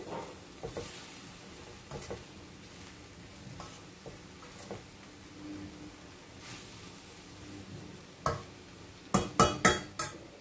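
Raw jackfruit curry mixed with sesame powder is stirred in a pan, a soft steady sizzle broken by scraping spoon strokes, ending in a quick run of sharp, louder clinks against the pan.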